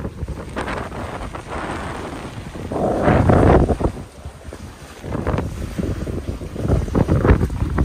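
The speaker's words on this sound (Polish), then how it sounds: "A wiatr, no niestety nie jestem w stanie dzisiaj opanować tego wiatru." Strong seaside wind batters the microphone at Jurata on the Baltic coast, a loud continuous roar with gusty surges and rumbling buffeting throughout, no voices.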